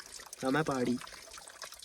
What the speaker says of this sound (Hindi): गाइस देख सकते हो कि पहाड़ से पानी ऐसे भरा जाता है भाई